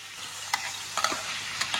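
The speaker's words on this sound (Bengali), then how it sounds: "এবারে ওর মধ্যে আমি আলুগুলোকে" Potatoes frying in a little oil in a washed karahi pan give a steady close sizzle, broken by a few sharp crackles and a light stir.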